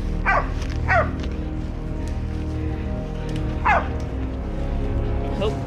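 A hunting dog barks in short bursts while holding a wild boar in the Northern Territory bush: three or four sharp yelping barks at moderate distance over a steady low rumble of wind or engine noise.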